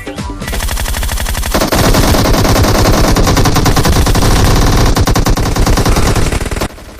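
Loud, continuous rapid automatic gunfire from a mobile battle-royale shooter game such as Free Fire or PUBG, dense bursts filling the whole stretch with a brief pause near the start.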